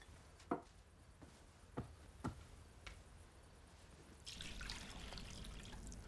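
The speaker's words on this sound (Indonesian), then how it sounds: "Lalu ia menuang air ke dalam sebuah baskom dan mulai membasuh kaki murid-muridnya" Water is poured into a basin for washing feet in a biblical-era scene. A few soft knocks and drips come first, then a quiet, steady splashing pour, faint and alone.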